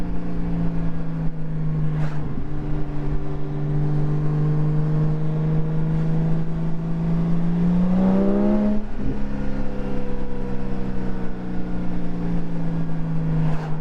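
Porsche 718 GT4 engine breathing through a Soul Performance race exhaust, heard from inside the car: a steady droning cruise tone with a rising rev swell around the middle, then settling back to a loud, continuous hum.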